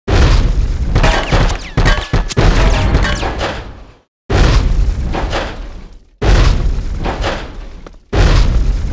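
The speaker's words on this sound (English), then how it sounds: "you pop your little bombs over here" Bomb explosions boom one after another in the Bad Boys 2 action game, with heavy, loud blasts that each roll out and decay, separated by brief silences.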